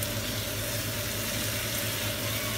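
Mutton frying in a pan gives off a steady, dense sizzle that stays close and even throughout, with no talking.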